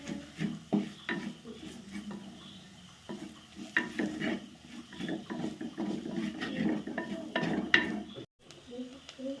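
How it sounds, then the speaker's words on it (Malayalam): Chilli powder and black pepper powder are stirred into a cooking masala for pepper chicken, giving continuous low scraping and light sizzle with soft utensil taps throughout, close but faint, briefly dropping out near the end. "ഇതിലേക്ക് 2 ടീസ്പൂൺ കുരുമുളക് പൊടി ചേർത്ത് കൊടുക്കുക. നന്നായിട്ട് മിക്സ് ചെയ്യുക."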